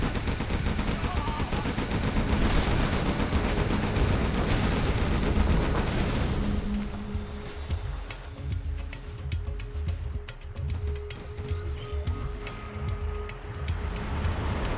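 Rapid bursts of gunfire and machine-gun fire in the real-time strategy game Command and Conquer: Generals Zero Hour, as a Red Guard unit is picked off and an Emperor tank is hit. Dense and loud through the first half, then thinner battle noise continues.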